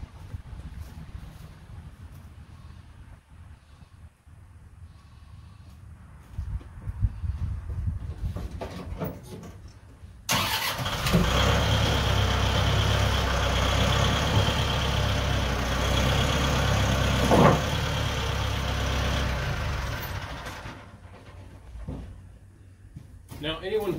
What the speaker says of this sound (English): so let me get the tractor back